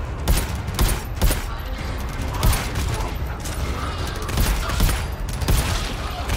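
Gunfire in GTFO, a team-based shooter, as enemies are shot at range: rapid bursts of shots run throughout, with several louder peaks over dense combat noise and occasional voices in the background.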